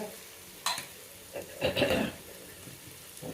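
Potatoes frying in coconut oil: a faint sizzle under a few soft stirring scrapes, with one sharp clink and a brief louder shuffle near the middle, quiet and close, no talking.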